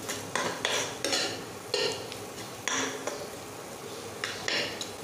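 A spoon scraping and clinking against a pan while garlicky spinach with coriander powder and red chilli powder is stirred: repeated short metallic scrapes in an uneven rhythm over a soft background.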